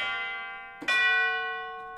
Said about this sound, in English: I feel like I need to add some chimes in here.